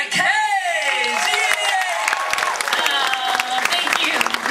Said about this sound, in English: Would you please give a rousing round of applause for Melanie McKay?